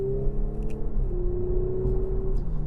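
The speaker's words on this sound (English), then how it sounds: "Does have quite the exhaust note when you get on it, and that turbo spools up." An Audi S5 Sportback's turbocharged engine pulls hard, its exhaust note rising in a steady droning tone with a faint whine as the turbo spools, heard from inside the car under acceleration.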